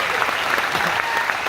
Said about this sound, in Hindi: अरे इनके लिए ताली होनी चाहिए यार